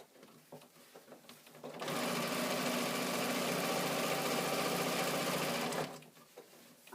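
A sewing machine stitches a channel seam through fabric in one steady, even-pitched run of about four seconds, close and loud, with quiet handling noise before and after.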